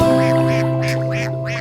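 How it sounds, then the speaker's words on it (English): Five little cartoon-style ducks quack in a nursery rhyme, a run of about five bright, evenly spaced quacks sounding over a steady sung or instrumental backing tone. "lived 5 little ducks who would quack and play"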